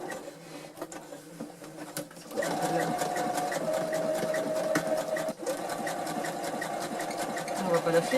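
A sewing machine stitching a tear on the front of a pair of jeans, quietly at first and then running steadily with a rapid rhythmic clatter of the needle, close and continuous to the end.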